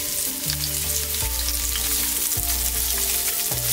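White onion frying in hot oil in a pan, making a loud, dense, continuous sizzle that carries steadily from start to finish with faint stirring, alone without talk.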